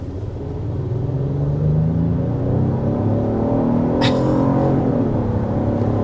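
A 2025 Genesis GV80 Coupe pulls away hard, its engine note climbing steadily in pitch under a loud, continuous rumble, with a brief sharp hiss partway through.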